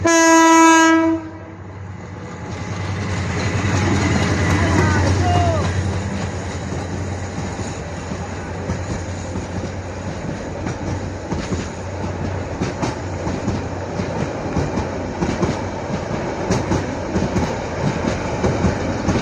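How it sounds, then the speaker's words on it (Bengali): A loud train horn blares at the start, then a train rumbles past with rhythmic clattering wheels that continue steadily for a long stretch. "রেল চলে আসতেছে, দেখেন।"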